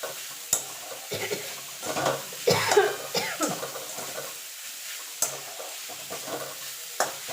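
Cauliflower frying on a high gas flame, with a spatula stirring and scraping it in the pan amid a soft sizzle, close and intermittent, with a cough partway through.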